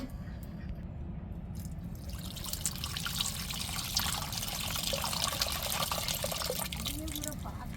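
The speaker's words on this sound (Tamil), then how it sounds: "நம்ம அம்மியிலே அரைச்சி கழுவுன தேங்காய் தண்ணியை சேர்த்துருக்குறோம்." Coconut water, used to rinse coconut ground on a stone grinding slab, pours into a simmering fish curry with a steady trickling, watery flow under faint background noise.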